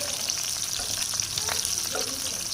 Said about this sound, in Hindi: तो सारी मिर्चों को इसमें डालेंगे, हल्का सा फ्राई करेंगे इसको।